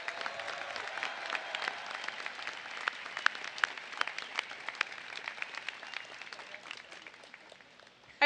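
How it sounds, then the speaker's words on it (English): Applause at a university commencement ceremony for the college of arts, media and communication, a fairly quiet spread of individual claps from a large seated audience, steady and then thinning toward the end. "One more round of applause for Dr."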